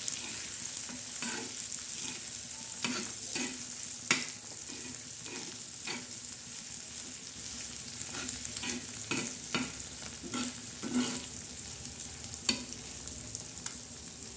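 Beaten eggs sizzle in a pan for egg bhurji with green chillies, tomato, onion and coriander, as a spatula scrapes and flips them in repeated strokes over a steady frying hiss.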